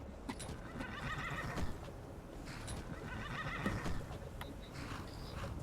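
A horse in the video game Skyrim whinnies twice in long, wavering calls, with clip-clop hoofbeats and faint shuffling between them, fairly close and clear, ending on a sudden louder thump.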